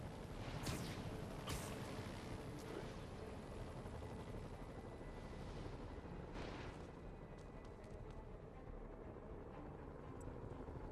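Steady whirring rotor drone of a helicopter in Spider-Man on PS4 runs throughout, with a few sharp bursts and booms breaking through early on.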